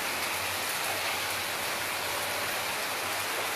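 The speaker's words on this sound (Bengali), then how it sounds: "দেখো কি মুষলধারে বৃষ্টি নেমেছে।" Heavy rain pours down in a continuous, dense hiss, a steady wash of drops with no breaks and no voices.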